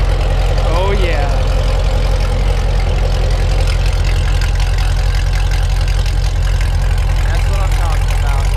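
A straight-piped stock 2016 Corvette with headers and a catless X pipe idles loudly, holding a deep, steady rumble throughout, with a brief voice-like sound near the start.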